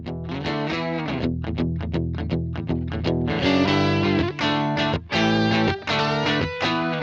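Electric guitar played through a BOSS GX-1 effects unit with heavy gain and reverb: loud, distorted chords and short stabbing notes, some choppy with gaps, then longer sustained, saturated passages ringing out.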